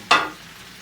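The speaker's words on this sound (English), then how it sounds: "in this pan here we have a nice chunk of corned beef that we're just going to let cook up over here on the side" A chunk of corned beef hits a hot pan with one short, bright burst of sizzle that quickly fades into a quiet, steady frying hiss.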